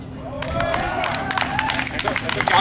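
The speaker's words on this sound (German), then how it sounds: "Klatschen haben Sie verstanden" An audience at an open-air concert at Hafen Open Air in Vienna claps in a dense, sustained patter, with crowd murmur and voices mixed through the applause.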